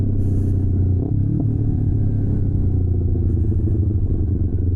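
Rebuilt Yamaha R3 motorcycle underway, a loud close engine drone with a steady low growl and slight pitch shifts as it rides on, wind faintly hissing at the start.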